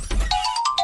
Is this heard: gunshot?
no